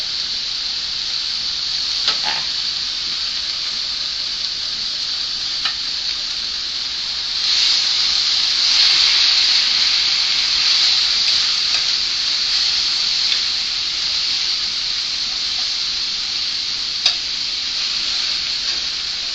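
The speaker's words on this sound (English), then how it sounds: "I find my spatula does pretty good at breaking stuff up." Tex-Mex hard-shell taco filling frying in a pan gives a steady, close sizzle, with a spatula breaking it up in scattered scrapes and light ticks throughout; the sizzle grows louder in the second half.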